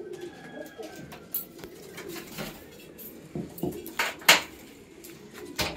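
Newly paired breeding pigeons in a home loft cooing softly, with scattered clatter and brief noisy bursts, no talk.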